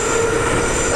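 A decorated New Year train runs past with a steady, loud rolling roar, a high wheel squeal threaded through it and continuous rumble underneath.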